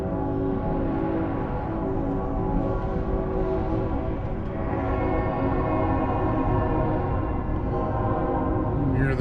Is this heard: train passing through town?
yes